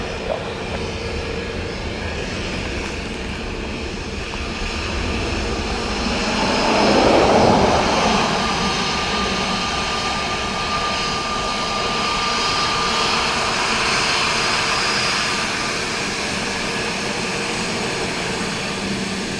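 Jet airliner roaring in to land at Dublin Airport in windy conditions, a loud broad engine rumble that swells to a peak as it passes close by, then settles into a steady drone.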